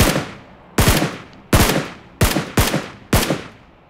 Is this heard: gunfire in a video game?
yes